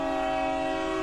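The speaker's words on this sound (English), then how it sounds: "Wow, that's a big train" A big train rolls past with its horn blaring, a loud, sustained multi-tone blast over the dense rumble of the rail cars, heard steadily throughout and without any talk.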